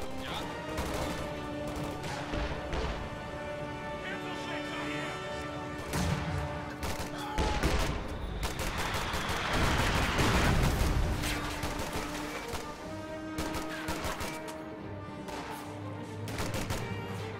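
Scott artillery bombardment and gunfire in a multiplayer strategy video game, a dense run of sharp blasts and crashes with a heavier rumbling cluster of shell impacts in the middle, continuing without speech.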